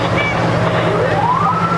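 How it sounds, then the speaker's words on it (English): Troy fire trucks sound their sirens during a July 4th parade, a rising wail sweeping upward over a steady low engine rumble and crowd noise, loud and close. "And we have the Troy fire trucks this morning"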